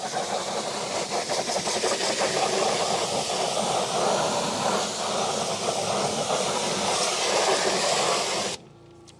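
A pressure-washer spray rinsing acid off dirty tires, a loud steady hissing blast that runs unbroken before cutting off abruptly near the end.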